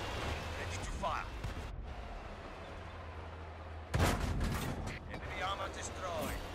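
A tank cannon in World of Tanks fires once with a loud, sharp boom partway through. Mechanical clanks and game ambience run before and after it, and a voice speaks.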